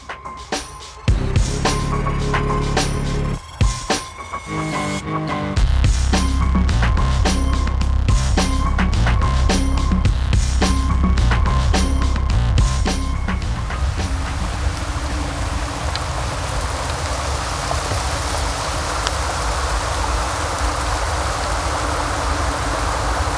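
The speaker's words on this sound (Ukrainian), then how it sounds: "Перечекаємо, поки пройде дощик." Steady rain falls along a river embankment in Kyiv, a broad, even hiss holding at a constant level for over twenty seconds, with a few clicks and low thuds early on before the downpour settles into a continuous wash.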